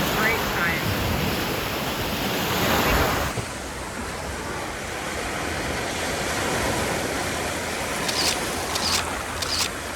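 Mediterranean surf washes steadily onto a dog beach in southern France, a broad continuous rush with wind buffeting the microphone, easing slightly partway through; a few faint higher sounds come near the end.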